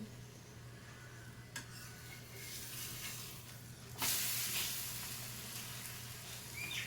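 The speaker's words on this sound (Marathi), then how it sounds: "अशा पद्धतीने मेथीचा पराठा भाजून घ्यायचा हवा" A buttered fenugreek paratha roasting on a hot pan gives a soft, steady sizzle and hiss, swelling louder midway as more sizzling starts, with no talk.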